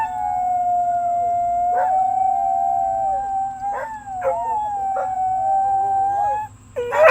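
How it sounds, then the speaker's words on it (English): Dogs howling at a siren in long, wavering tones close by, several voices overlapping and rising and falling, with a short yip near the end. "2 of my dogs, they like to howl when there's a siren"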